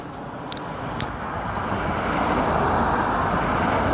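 Road traffic roars past a wireless lavalier mic running without noise cancellation, a steady broadband rumble that swells as vehicles approach, with a couple of brief sharp clicks near the start.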